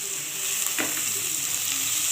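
Tomato paste frying with softened onion in a pan of oil for a fish dish, a steady, close hiss of sizzling that carries on unbroken, with a faint scrape of stirring partway through.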